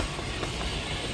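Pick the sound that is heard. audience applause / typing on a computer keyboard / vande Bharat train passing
vande Bharat train passing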